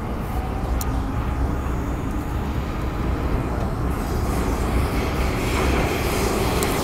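An MTR train running on the line near Tai Koo, with a steady loud rumble of wheels and motors, occasional high metallic squeals, and a constant interior rolling roar.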